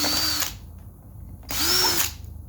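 Two bursts of a power drill whine close and loud while removing screws from a car seat, each lasting about half a second with a quiet gap between them.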